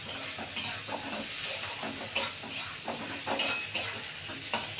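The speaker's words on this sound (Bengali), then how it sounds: "টমেটোটা দিয়েছি এবার একটু ভালো করে ভাজা ভাজা হবে" Tomato and vegetables for egg chowmein fry in a pan, a steady sizzle broken by repeated stirring scrapes at an uneven rhythm, close and fairly loud with no talking.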